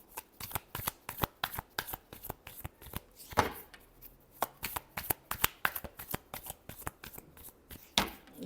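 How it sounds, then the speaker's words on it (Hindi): Tarot cards are shuffled by hand up close in a quiet room, a fast run of crisp riffling slaps and flicks in uneven bursts that continue throughout with no voice. "last shuffle"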